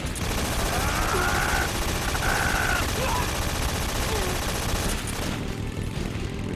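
Turret machine gun fire in the Metal Gear Solid 3 video game, a loud continuous stream of rapid shots under game sound and someone speaking, easing off near the end.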